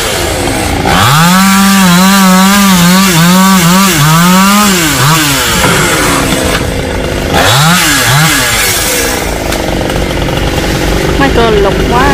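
A chainsaw cuts branches from a 200-year-old Sộp tree. It revs loudly and close up in a long burst, then drops away and comes back in a second, shorter rev, with steady outdoor noise between.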